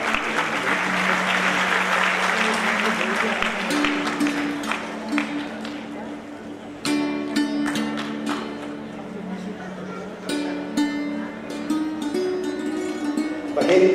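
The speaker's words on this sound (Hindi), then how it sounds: "हम सबका भैया के लिए एक बार जोरदार ताली।" Loud, sustained applause from an audience at a student talent-award ceremony fills the whole stretch, rising and falling slightly while a voice speaks over it and music plays in the background.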